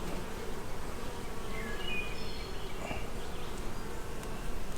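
A steady, dense buzzing of many Carniolan honey bees close by at a hive, continuous throughout with a few individual bees droning past.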